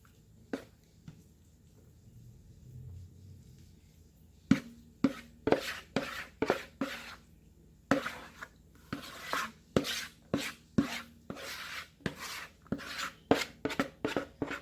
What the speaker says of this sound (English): I'm trying to get all of my mixture out